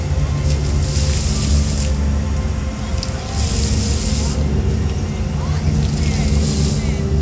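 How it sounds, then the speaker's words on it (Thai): A tour boat packed with tourists pulls away, its motor giving a loud, steady drone with rushing water and spray throughout. "เรือก็ออกไปแล้วนะครับ"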